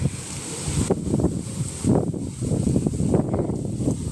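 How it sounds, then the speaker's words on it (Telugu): A strong gust of evening wind in Karimnagar rushes and buffets against the microphone, surging in waves of rumbling noise that rise and fall over a few seconds. "గాలి ఫుల్గా వస్తుంది"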